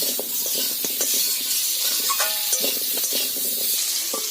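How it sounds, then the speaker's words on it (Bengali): Oil and turmeric powder stirred together in a pan with a spatula while cooking lauki fish curry, a steady close scraping and soft sizzle with light rhythmic scrapes and no talking. "তেল দিলাম অল্প একটুখানি হলুদের গুঁড়ো এবার খুঁটি দিয়ে নেড়ে করে আমি একসঙ্গে মিশে নিলাম"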